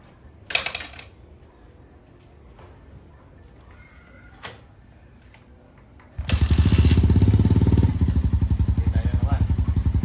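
A Suzuki GD110 motorcycle built as a scrambler starts with a short kick and crank, followed by light clicks, then the engine fires into a close, loud, steady idle and rev.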